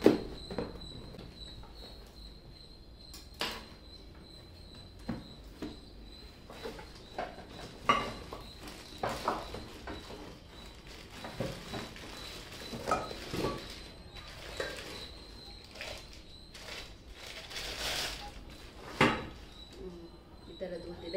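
Metal pieces of a Butterfly cookware set, including a frying pan and saucepans, are unboxed with scattered clanks, knocks and rustling packaging at irregular intervals while a person talks throughout.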